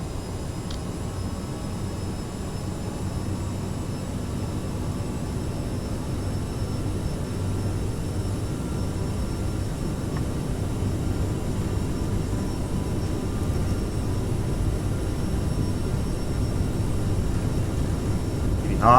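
Twin jet engines of a CRJ 900 airliner spool at takeoff thrust in Microsoft Flight Simulator 2020, a steady broad roar that builds gradually over the run with a thin high whine above it.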